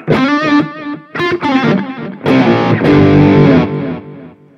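Distorted electric guitar through a Line 6 Helix with echoing delay repeats, the delay routed through cabinet simulation out to a PA, played in bursts of chords and sustained notes, sounding somewhat dark and muffled, with no talking.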